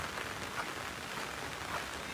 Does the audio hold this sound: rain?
yes